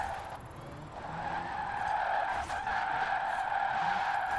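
Fully electric drift car sliding in Forza Horizon 4, a sustained tonal tyre screech held steadily for several seconds under a quiet electric whine, with no engine roar.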